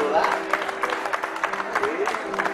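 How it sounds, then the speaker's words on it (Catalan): A crowd at a lively street festival in Tarragona applauds a child named Nora, steady clapping lasting a couple of seconds with a voice talking over it. "Un aplaudiment a la Nora."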